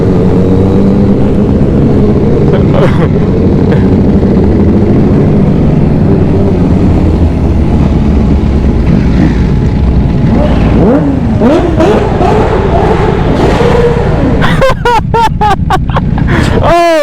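Superbikes on a London street, including a Ninja H2, Ducati V4S, Hayabusa and S1000R, their engines roaring and revving loudly and close by, ending in a burst of sharp rising revs, with people talking beneath the noise.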